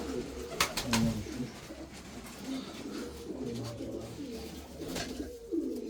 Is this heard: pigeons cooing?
yes